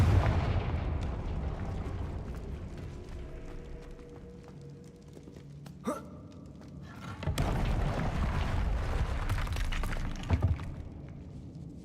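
Spell blasts from the Confringo fire curse in Hogwarts Legacy, with a loud sharp burst near the six-second mark and another around seven seconds. Both stand over a dense, rumbling game soundscape that continues throughout.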